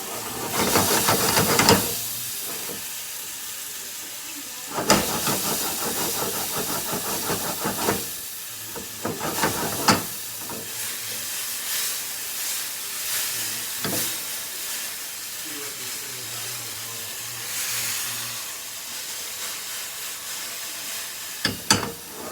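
Fried strawberries hiss and sizzle steadily in a hot pan, a bright spattering crackle with sharper bursts and pops breaking through now and then.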